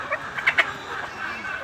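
Native chickens at a hatchery give a few close, brief clucks over a quiet background.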